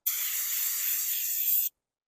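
A single sustained spray from a can of brake cleaner, a steady bright hiss lasting under two seconds, then abrupt silence.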